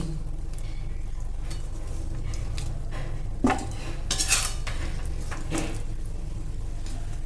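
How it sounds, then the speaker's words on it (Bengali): A slotted spoon scrapes and taps against a metal pan while fried, braised chicken for curry is lifted out, with scattered close clinks and a few sharper knocks over a steady low hum. "একটা ছাঁচা দিয়ে আমি চিকেনটা তুলে নিচ্ছি।"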